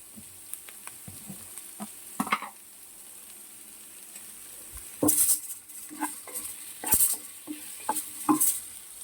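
Onions and green chillies sprinkled with salt fry in a pan for a tomato-onion chutney, a low crackling sizzle with scattered stirring clicks and several sharper bursts of spatter.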